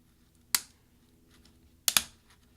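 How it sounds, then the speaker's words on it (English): Sharp plastic snaps as a MacBook Pro key, from an early 2011 13-inch model, is pried off its plastic scissor hinge: one isolated click, then a quick close double click a moment later, against near silence. "separate the plastic key from the plastic scissor hinge underneath it. You just slide across."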